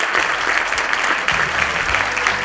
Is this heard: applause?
yes